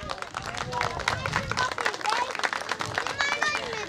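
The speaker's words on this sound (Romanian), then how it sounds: "Haideți să-l aplaudăm." An audience applauds the mayor at a local community gathering in Bihor, with a steady burst of clapping and crowd noise mixed with faint voices and some tonal sounds.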